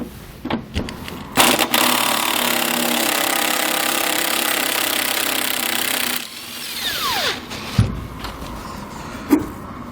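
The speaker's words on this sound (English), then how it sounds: "So now we're going to take a 13/16" socket. We're going to go ahead and remove one of our body mount bolts." Power tool, likely an impact wrench, spins a 13/16 inch socket to remove a body mount bolt on a 2020 GMC Sierra pickup, a steady loud whir of about five seconds followed by short clicks and knocks.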